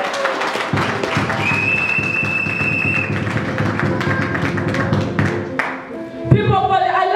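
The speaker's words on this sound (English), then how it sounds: "can you clap for Jesus?" Church congregation clapping for Jesus during a Sunday service, a dense, steady wash of applause lasting several seconds, with music and voices mixed underneath before it thins out near the end.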